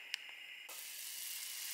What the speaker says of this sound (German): Wasser kocht auch gleich